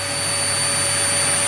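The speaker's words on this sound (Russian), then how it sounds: "что я пылесошу" A household vacuum cleaner drones loud and steady in a room with pet parrots, a constant high whine with no pauses.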